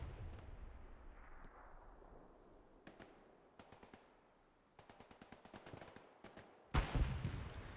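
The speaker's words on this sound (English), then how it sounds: "Artillery shells take down the commander." Artillery shells explode in the World War II shooter Hell Let Loose on the Foy map, with distant booms, rapid cracking bursts of fire and a sharp loud blast near the end.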